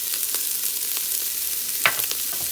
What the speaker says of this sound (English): And saute these together